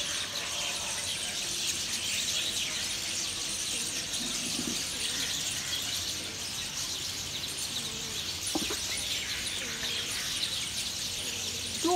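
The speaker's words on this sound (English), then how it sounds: "is a home of so many birds which have now come together, producing this musical sound for everybody to hear" Many birds gather in a big tree and chirp together, making a dense, continuous shrill chatter that fills the whole stretch. A few louder squeaks stand out from the steady wash of calls.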